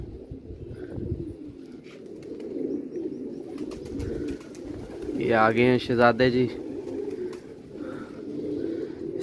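Multani pigeons coo in a short rolling burst partway through, near and clear, while someone talks over steady wind noise before and after.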